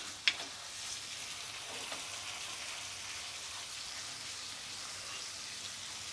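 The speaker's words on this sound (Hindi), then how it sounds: "गाजर डालने के बाद इसको सौटे करेंगे हम।" Carrots sautéing in a pan for chicken fried rice make a steady, soft sizzle that holds even throughout, with one faint clink near the start.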